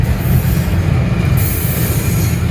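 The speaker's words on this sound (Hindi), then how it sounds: "रुकती पी है सारी रेलगाड़ी" A train squealing to a stop, with loud, continuous high-pitched wheel screech over a heavy rumbling rail roar, close and steady throughout.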